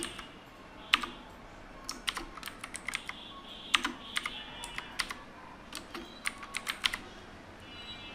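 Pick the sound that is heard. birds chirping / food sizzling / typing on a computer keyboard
typing on a computer keyboard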